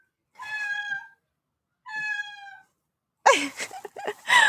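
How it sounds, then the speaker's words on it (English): A cat meows twice in drawn-out, wavering cries, followed by a burst of louder, more agitated yowling close by. "meowing under the door."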